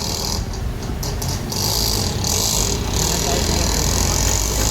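Auto rickshaw engine running continuously with steady low rumble and rattle, close and loud, while riding through a village across a railway crossing.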